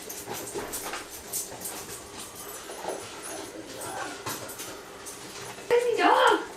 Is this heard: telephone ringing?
no